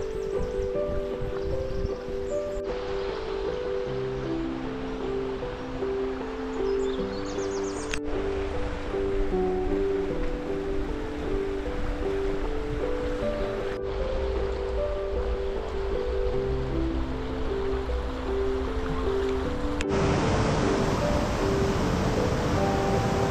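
A river flows steadily beside a forest hiking path in Abruzzo, a continuous broad rush of water heard alongside a steady musical background, with no one talking.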